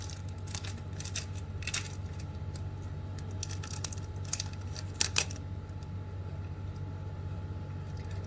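A Fox lemon candy wrapper being worked open by hand, close-up, with scattered crinkles and sharp little clicks in irregular bursts over a low background hum, no voices.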